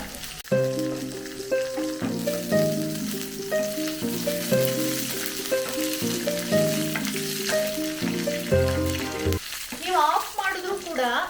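Onion and peanut masala for chicken peanut masala fries in a clay pot with a loud, steady sizzle and background music, then a brief vocal-like sound near the end.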